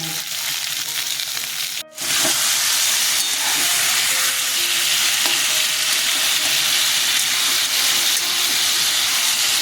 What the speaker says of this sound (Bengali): ঝিঙ্গাটা ভাজা ভাজা হয়ে এসছে